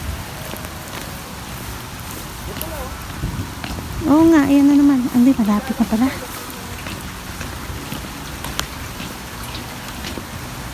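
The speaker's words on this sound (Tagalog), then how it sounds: "Ganyan nakalakas ang ulan." Steady heavy rain hisses throughout, with a few voices talking briefly over the downpour near the middle.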